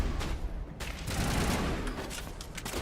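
Rapid bursts of gunfire in Mass Effect, a string of sharp repeated shots with brief gaps, moderately loud and with no talking.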